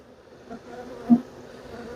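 Honey bees hum steadily at an opened, healthy hive full of brood and stores, a soft continuous buzz with one brief louder swell as a bee passes close.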